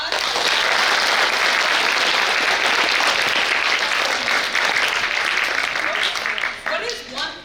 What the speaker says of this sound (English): Can y'all give Isabella a round of applause?